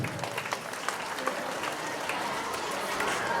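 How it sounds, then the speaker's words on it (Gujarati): A village audience at a development works event claps in dense, steady applause, welcoming the district panchayat president, with a few voices mixed in. "આપણે તાળીઓથી વધાવી લઈશું"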